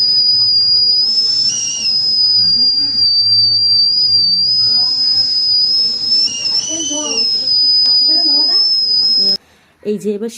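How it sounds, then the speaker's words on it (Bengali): A pressure cooker steaming idli whistles with a loud, sustained high whistle that wavers slightly in pitch for about nine seconds, with softer voices underneath, then cuts off abruptly into brief talk. "এই যে সিটিটা আওয়াজ হচ্ছিল, এইটা দেওয়া মানে হচ্ছে এটা 10 মিনিট বাদে আপনি আপনার বন্ধ হয়ে যায়।"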